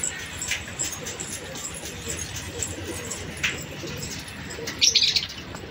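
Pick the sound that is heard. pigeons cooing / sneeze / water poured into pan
pigeons cooing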